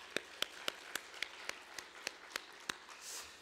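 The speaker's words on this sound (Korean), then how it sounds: "그 은혜를 허락하신 하나님께 우리 같이 감사의 박수 올리도록 하겠습니다." A church congregation claps together during a Sunday worship service. The claps are faint, distant and evenly spaced, roughly four per second, over a quiet hall.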